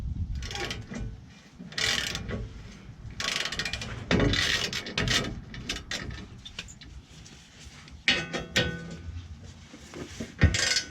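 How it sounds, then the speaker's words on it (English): A long ratchet clicks in bursts while loosening tight skid plate bolts underneath a 2011 Dodge Ram, with metallic clanks and scrapes between the close, uneven strokes. "I actually switched up to using a longer ratchet just to make it a little bit easier."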